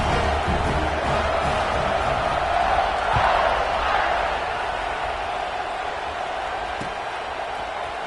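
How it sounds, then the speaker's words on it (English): A large football stadium crowd roars as a steady, dense wash of noise, swelling louder around the kickoff before holding at a broad, continuous rumble. "You think this crowd's going to get loud when their defense comes on the field?"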